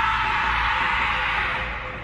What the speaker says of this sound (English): A police officer heard a mountain lion scream